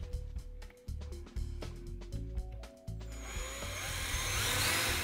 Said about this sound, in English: With our hole drilled through our cabinet, 5/8